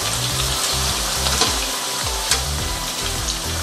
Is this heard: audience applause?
no